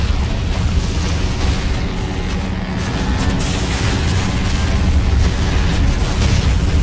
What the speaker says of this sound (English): Oh, Katyusha rocket strike.